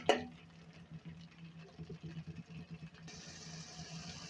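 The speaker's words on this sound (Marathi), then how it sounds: "आणि तेलामध्ये याला शिजू द्यायचं आहे थोडा वेळ आपल्याला त्याला तेल सुटेपर्यंत आपण शिजू देणार आहोत" Fish curry masala cooks in oil in a pan, giving a faint, steady sizzle with soft rhythmic stirring scrapes.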